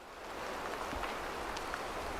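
Rain falls steadily in the hunting video game Way of the Hunter 2, making a soft, even hiss with a few faint drop ticks and no voices.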